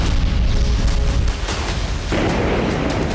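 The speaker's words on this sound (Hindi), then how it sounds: "गाजा में एक बार फिर रिहायशी इमारतों पर बम।" Bombs striking residential buildings in Gaza: heavy booming blasts and rumbling debris, loud and continuous, with a fresh burst of crackling impact partway through.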